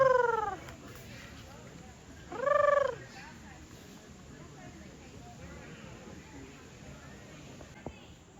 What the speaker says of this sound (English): You guys be careful around the turkeys.